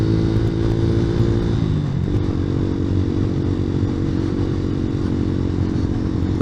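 A motorcycle ridden on the road, its steady engine drone running throughout at close range, with a brief dip and shift in pitch about two seconds in, as if changing gear, and no talk over it.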